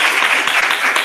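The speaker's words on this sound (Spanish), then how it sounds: "un aplauso para Antonio" A lecture audience gives a brief burst of loud, dense applause to welcome the speaker, an unbroken wash of many hands clapping at close range.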